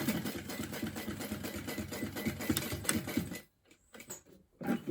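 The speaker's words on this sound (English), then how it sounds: "And then I'll back stitch again, a couple times over here." A sewing machine back stitches a fabric bag with a steady, rapid mechanical chatter, close and fairly loud, before stopping abruptly; a short burst resumes at the very end.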